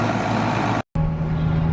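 A farm tractor's engine runs steadily at a loud, close, droning idle with a deep constant hum, briefly cut to silence partway before carrying on unchanged.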